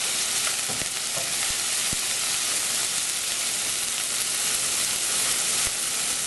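Minced garlic and ginger sauté in a pan for ginataang tilapia, giving a dense, steady hiss and sizzle that runs unbroken throughout, with a few faint clicks and no talking.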